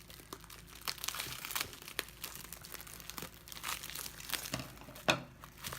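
Crinkly packaging from a JetPens stationery order is pulled open close by, a quiet run of crumpling and crackling rustles with a sharper tearing crunch near the end.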